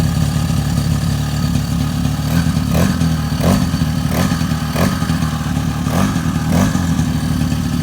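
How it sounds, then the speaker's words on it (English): Suzuki LT50 quad, freshly rebuilt top end, runs on stands while its small engine is revved in repeated rising bursts over a steady buzzing idle, close and loud. "try to rev it out."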